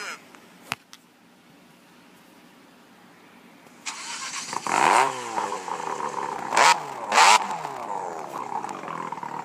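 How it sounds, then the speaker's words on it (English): ARCA stock car engines firing up at Pocono Raceway, the Tricky Triangle: after quiet crowd murmur, a sudden loud roar of many engines bursts in, followed by repeated rising revs and blips that stay dense and close. "Driver, start your engine."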